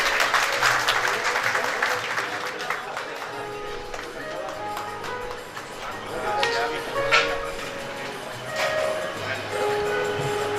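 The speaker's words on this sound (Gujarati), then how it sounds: "આ દરેક સન્માન માટે આપણે જોરદાર તાળીઓ હોવી જોઈએ" Audience applause at a 2021 Corona Warriors honour ceremony held by a grocery traders' association in Amreli, clapping strongest at the start and then thinning under a background murmur of voices and scattered clatter.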